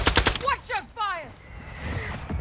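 Gunfire in Call of Duty: Modern Warfare II on the Embassy map, a rapid burst of several loud close shots at the start, followed by quieter game effects and a radio-style voice callout.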